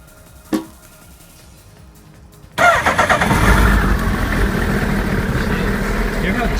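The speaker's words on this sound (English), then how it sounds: "It doesn't have a high-strung motor when you start it up. Definitely hear the low tones." A 2013 Suzuki Hayabusa motorcycle fires up after a brief click and near silence, catching abruptly and settling into a loud, close, deep idle that runs steadily to the end.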